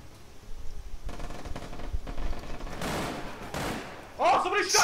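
Gunfire in the video game APB: Reloaded: scattered shots and rapid bursts crackle in uneven clusters, building in density toward the end, with faint voices in the background.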